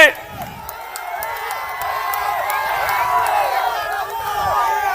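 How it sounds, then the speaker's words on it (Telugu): A large crowd at a political rally claps and cheers loudly, with whoops and whistles rising in a sustained roar all the way through. "ఇస్తున్నామంటే గట్టిగా చప్పట్లు కూడా చెప్పండి"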